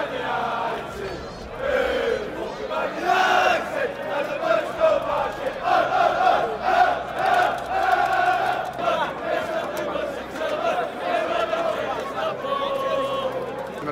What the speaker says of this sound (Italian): in sottofondo potete sentire i tifosi del Manchester City